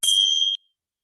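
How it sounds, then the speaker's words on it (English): A single bell struck to open a seated yoga practice: a bright, close ring that fades out quickly into silence. "There the bell rings out."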